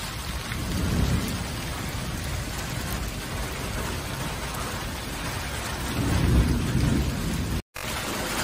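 Heavy rain pours steadily in Bhopal during a strong storm with gusting wind. The downpour is dense and unbroken, and low thunder rumbles beneath it, with no voices.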